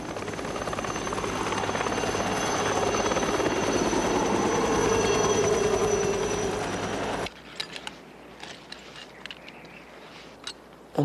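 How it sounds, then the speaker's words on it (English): Air Zermatt rescue helicopter in the Swiss Alps, its loud steady rotor thrum building and holding for about seven seconds before cutting off, followed by faint scattered knocks. "The guide radioed the Air Zermatt rescue team, and a helicopter was dispatched to the scene."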